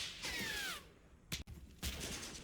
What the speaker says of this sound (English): machine gun fire comes from the 3rd story building on KT-1